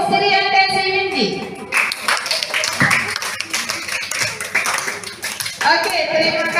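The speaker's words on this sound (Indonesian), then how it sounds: "Tepuk tangan dulu untuk Sri Antensi Windy." Classroom applause as students clap together, a dense burst of hand claps that fills most of the clip, with a voice speaking before and after it.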